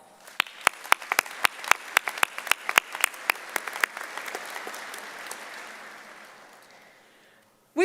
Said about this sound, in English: Please join me in saluting our faculty with a round of applause.